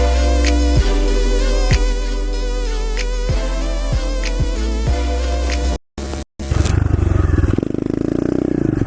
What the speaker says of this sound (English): I'm so stoked I fixed my freaking pit bike!